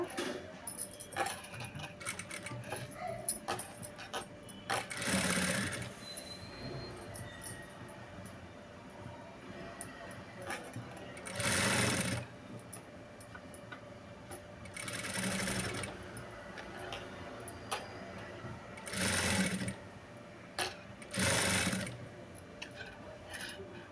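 A sewing machine stitches a blouse in several short, loud bursts of whirring that rise over a quiet room, with brief pauses between runs.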